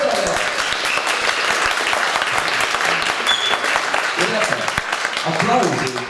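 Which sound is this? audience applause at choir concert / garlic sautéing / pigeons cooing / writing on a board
audience applause at choir concert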